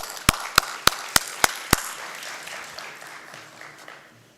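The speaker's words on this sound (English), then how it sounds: "Let's give him a round of applause" A conference audience gives a round of applause: six sharp, evenly spaced claps ring out, followed by a softer wash of fading room noise.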